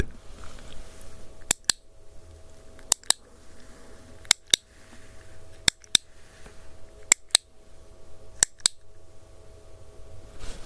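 Sharp, crisp clicks in pairs, a dry ASMR test sound repeated at a steady pace, close and isolated against a quiet background with a faint hum.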